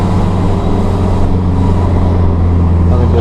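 A hot, tuned car with a 1.1-litre TU1A engine and a large exhaust line, producing a loud, steady, close rumbling drone with a mix of low hum and broadband roar.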